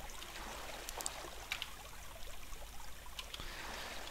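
Steady soft rush of flowing water from a fixed water source in the block-building game Minetest, faint and continuous with a few brief brighter splashy flickers, no voices over it.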